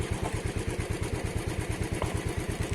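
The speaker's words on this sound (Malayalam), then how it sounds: "അതാ ബോട്ട് വരുന്നതാ" A boat engine draws nearer on a dam reservoir, its steady low chugging pulse running evenly and fairly loud throughout, with no voices over it.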